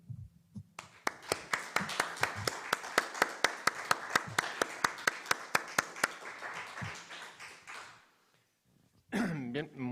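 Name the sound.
audience applause in a lecture hall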